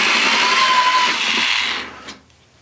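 A power drill with a step bit bores a 5/8 inch hole, a loud whirring grind with a rising whine that runs for about two seconds, then cuts off.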